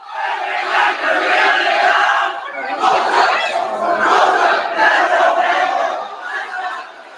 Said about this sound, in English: Great crowd has made their way out tonight.